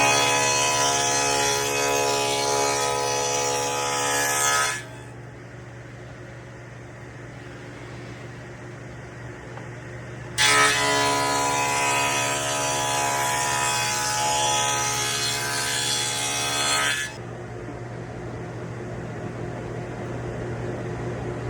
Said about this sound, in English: while I have the dado stack in there, I like to cut them all so they're identical